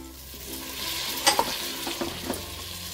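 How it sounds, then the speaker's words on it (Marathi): Potato, cauliflower, peas, carrot and beans sauté in hot oil with a steady soft sizzle, punctuated by a few scraping stirs of a spoon against the pan, fairly quiet and close. "छान आपण ह्या भाज्या आता त्या तेलामध्ये परतूया"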